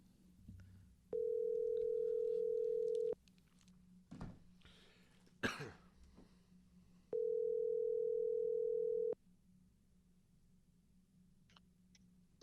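A phone line rings out twice during a conference call, each long steady electronic ring lasting about two seconds, separated by a quiet gap with a cough and throat clearing, then the line goes quiet.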